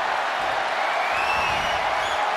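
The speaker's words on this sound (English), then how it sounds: "Listen to this crowd." A packed WWE wrestling arena crowd cheers in a loud, unbroken roar that fills the whole stretch without any pause.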